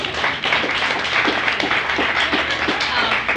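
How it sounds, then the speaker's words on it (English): Audience applause during a panel discussion, a brief burst of crowd clapping, fairly loud and dense, with some voices mixed in. "Give her a round of applause."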